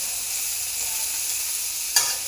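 Mixed vegetables for shukto, including beans, raw banana, potato and brinjal, frying in a pan with a soft continuous sizzle, then a single sharp clink of a utensil near the end.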